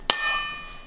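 A single sharp metallic clink as a cookie dough ball is set onto a metal baking tray, followed by a ringing tone that slowly fades, close and alone.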